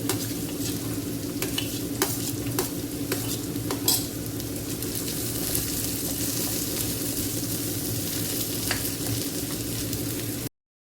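Potato, carrot and corn kernels are stirred into onions frying in a pan for vegetable poha, a steady sizzle running throughout with repeated scraping and clinks of a utensil, close and alone with no talking.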